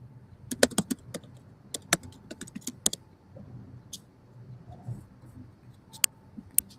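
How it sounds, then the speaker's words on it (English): Rapid clicks of a computer keyboard come in uneven bursts, with sharp keystrokes clustered close together and brief pauses between them, heard up close against a faint low background hum. "typing like a motherfucker"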